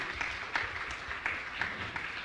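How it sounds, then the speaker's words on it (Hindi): Audience applause at a Jain religious gathering honouring guests, a steady wash of many hands clapping at moderate distance with faint rhythmic pulses. "मैं चाहूंगा आप ताली बजाकर इनका सम्मान करेंगे।"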